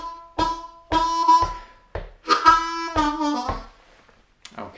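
A harmonica plays the first lick of a song on the 2 draw: short, reedy bursts in a rhythmic blues pattern, close and alone, with brief pauses between phrases.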